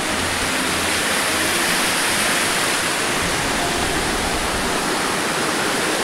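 Suk river rushing near an old bridge in a village during rain, a steady broadband roar of flowing water that stays loud and even throughout, with no voices.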